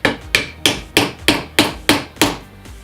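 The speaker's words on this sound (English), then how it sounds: "Take your nylon mallet." A nylon mallet taps a Night Fision gun sight into place on a Smith & Wesson M&P pistol, giving eight sharp, evenly paced knocks up close with no voices.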